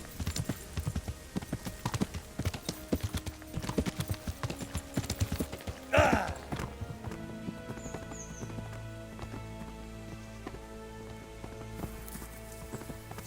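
Horse hooves clip-clop in the video game Kingdom Come: Deliverance, a steady galloping rhythm for the first six seconds, then a brief burst and a quieter stretch of game ambience without clear hoofbeats.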